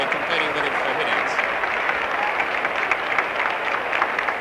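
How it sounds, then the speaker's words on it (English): Sustained crowd applause rolls through a stadium at a 1968 Australian football semi-final between Carlton and Essendon, a broad, even wash of clapping with a commentator's voice faintly beneath. "Nice round of applause there for the big fella."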